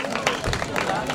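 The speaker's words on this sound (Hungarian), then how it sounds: "Nagy tapsot neki!" A crowd claps steadily at a Hungarian village spring festival day in Nagybarca, a brief burst of dense, close applause with background voices.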